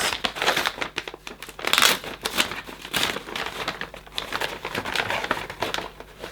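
Wrapping paper on a Secret Santa gift crinkling and tearing as the present is opened, a close, busy run of crumpling and ripping bursts with no voices.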